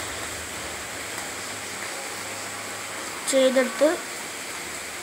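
Steady rain falls outside a kitchen during a power cut while puliyinchi is being made, a continuous even hiss across the whole stretch with a person speaking briefly near the end.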